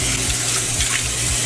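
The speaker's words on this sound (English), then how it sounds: "rinse this out," A basin is rinsed under a running tap, a steady close stream of water splashing loudly for a moment with no talking.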